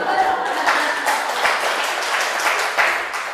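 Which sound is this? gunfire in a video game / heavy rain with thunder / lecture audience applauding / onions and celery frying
lecture audience applauding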